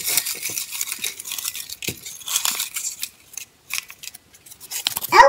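Paper slips rustle, crinkle and unfold as they are drawn from a bowl for a drawing contest, with scattered dry crackles and short pauses, close and moderately loud, and no talk.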